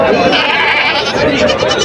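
A Gavran-breed goat bleats close by at a goat market, a wavering nasal cry mixed with people talking nearby.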